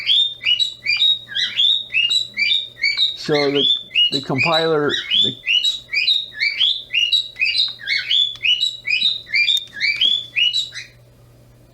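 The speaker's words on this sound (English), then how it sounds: "There's my birds." Pet birds chirp in quick repeated bursts of bright tweets, close and continuous, while someone talks briefly over them and a low electrical hum runs underneath.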